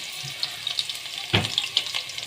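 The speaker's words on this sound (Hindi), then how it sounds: "हम इसमें डालेंगे थोड़ी सी प्याज, और प्याज को हम चलाएंगे थोड़ा" Onions fry in a pan with a constant sizzle while being stirred, and a few sharp scrapes and clacks of the spoon stand out over the hiss.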